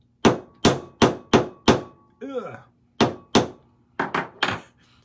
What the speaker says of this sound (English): hammer that into a little flat edge so I can cut a little chip off there